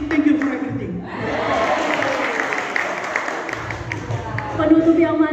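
Audience applause in a hall, a full room clapping steadily for several seconds with scattered cheers, rising again toward the end, with a voice over it at the start and finish.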